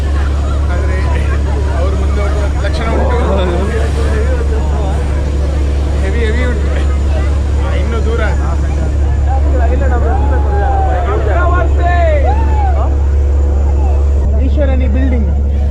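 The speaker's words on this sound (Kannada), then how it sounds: "ನಮ್ಮ ಬೋಟ್ ಮತ್ತು ಅವರ ಬೋಟಿದು ಕಾಂಪಿಟೇಷನ್ ಆಗ್ತಾ ಉಂಟು ಜೋರು ಜೋರು" A constant low engine drone from two racing motorboats near Netrani Island off Murudeshwar runs loud and steady throughout, with voices chattering over it.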